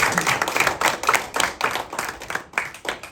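An audience applauds a young man who raised money for pediatric cancer and won an award from the Franklin Park fire department, a dense, loud burst of clapping from many hands.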